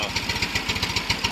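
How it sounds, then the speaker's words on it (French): A Fiat 500 engine runs at a steady idle during an ignition-timing check, a close, even, rapid chugging pulse with no voices. "Donc bon, le moteur a démarré."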